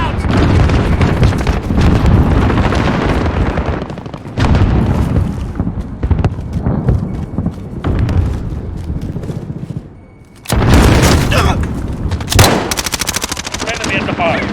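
Grenade blasts and heavy automatic gunfire in a military shooter video game, with a deep boom near the start and another loud burst around ten seconds in, under continuous rattling fire and occasional voices.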